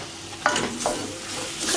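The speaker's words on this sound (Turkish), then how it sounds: "Karıştırıyorum." A spoon stirs grated carrot and potato through toasted flour in a pan, giving two or three distinct scraping strokes over a soft, steady sizzle.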